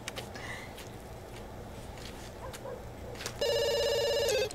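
A telephone rings in The Sims 2, a short burst of bright, evenly pulsed electronic trilling that starts late and cuts off, over quiet game ambience with faint ticks and no talking.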